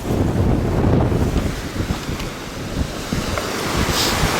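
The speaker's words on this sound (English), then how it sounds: "Further out you can see some rough waves." Rough waves on the Arctic Ocean shore at Barrow, Alaska, a continuous low rumbling wash of surf heavily mixed with wind buffeting the microphone.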